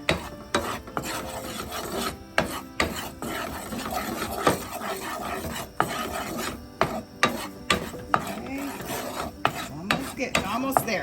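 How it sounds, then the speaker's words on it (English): A dark roux for seafood gumbo is stirred steadily in a hot pot, a loud, continuous rasping scrape of spoon against the pan bottom, with rhythmic strokes and sharp knocks throughout. "You gotta have to constantly stir it, especially at this point."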